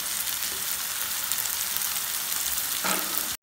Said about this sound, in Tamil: பாருங்க தக்காளி நல்லா வதங்கிருச்சு